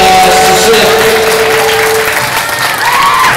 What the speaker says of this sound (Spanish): aplauso para Susel.